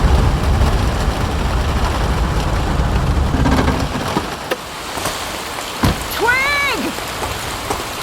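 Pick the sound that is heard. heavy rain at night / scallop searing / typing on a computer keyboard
heavy rain at night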